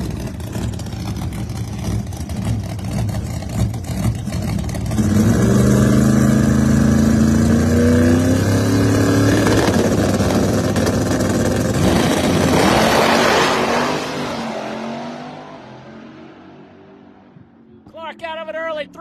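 Nitrous-powered drag racing car at a pro test session, its engine droning loudly and rising in a long harsh roar before fading off into the distance, with an announcer talking over it.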